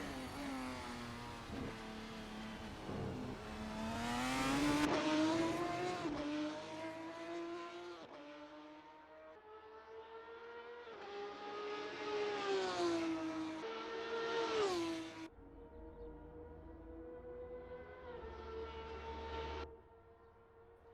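A Formula 3 race car in a racing video game on a flying lap around Monza, the engine screaming through repeated rev climbs and sharp gear-change drops, loud and close with no talk over it.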